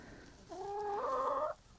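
A single chicken near a coop gives one drawn-out, wavering cluck lasting about a second, moderately close but fairly quiet against a low background hush.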